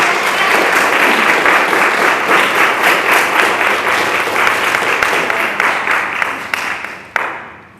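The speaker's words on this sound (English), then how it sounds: "I asked you not to do the applause afterwards" At a library board meeting, an audience gives a loud burst of applause, thick clapping that holds strong, then thins out and fades away near the end.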